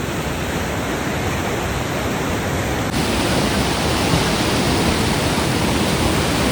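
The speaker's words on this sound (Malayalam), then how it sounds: "അതുകൊണ്ടോ വെള്ളം കുത്തി ഒഴുകാണ്," The Beas river near Kullu rushes forcefully after rain, swollen and fast-flowing, producing a dense, continuous roar of water that stays steady and loud throughout with no voices.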